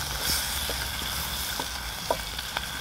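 Rabbit pieces browning in a pan over an outdoor cooking fire, a soft steady sizzle with a few faint clicks and taps of turning, quiet and close, no talking.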